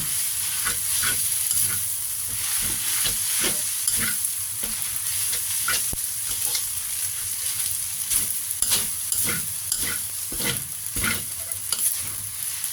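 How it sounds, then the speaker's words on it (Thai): Noodles stir-fry in pork lard for a tea-shop-style pad mee, with a steady close sizzle and a regular scraping of a spatula against the pan throughout. "ผัดเส้นแล้วเวลาผัดเส้นเนี่ยน้ำมันหมูนะมันจะอร่อย"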